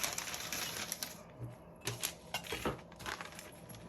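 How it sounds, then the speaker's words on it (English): A page being ripped out of an art journal at close range, heard as crisp crackling paper tears and rustles with several sharper snaps over about four seconds, with no talking. "I'm going to rip it right about there"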